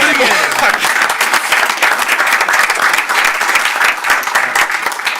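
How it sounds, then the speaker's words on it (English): Sustained round of applause from the audience at a city commission work session, dense steady clapping filling the room throughout without a break. "I actually was going to ask for a round of applause for these people."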